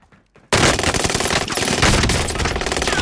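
Gunfire from the Call of Duty: Modern Warfare video game bursts in suddenly after a quiet half second, then continues as loud, dense automatic fire.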